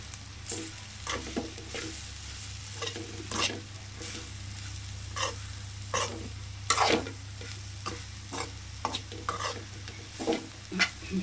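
Bitter gourd karam frying and being stirred in a pan, with a low steady sizzle under repeated scraping strokes of a spatula at an irregular pace, close up.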